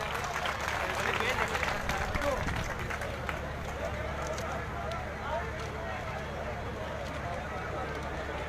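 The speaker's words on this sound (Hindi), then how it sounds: "एक बार जोरदार तालियां बजाइएगा" A crowd at a political rally in Sahada-Raipur claps loudly at first, then the applause thins to a softer patter while someone speaks over a PA system.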